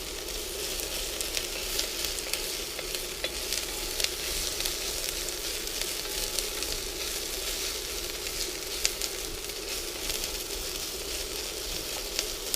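Peppers and onions sizzle steadily in a cast iron pan on a Nuwave induction cooktop, a close, continuous crackling hiss with small pops throughout and no talking.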